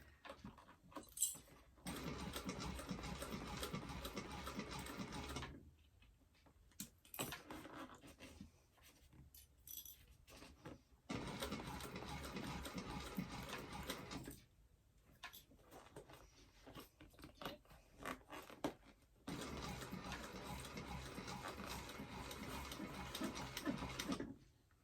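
A sewing machine stitches a fabric doctor bag in three long bursts of quiet, even clatter, with pauses between them filled by small handling sounds.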